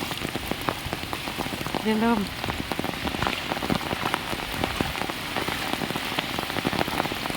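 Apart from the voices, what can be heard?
heavy rain falling on flooded road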